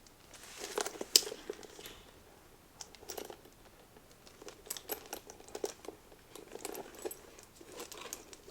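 The plastic bag and tags are taken off a new crossbody shoulder bag, giving soft, irregular crinkling and rustling in short bursts, quiet and close.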